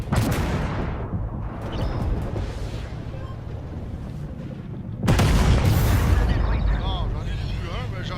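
Small rapid-fire cannons in a naval combat video game, heard as booming shots and explosive bursts, with a loud heavy blast about midway, under continuous excited talking.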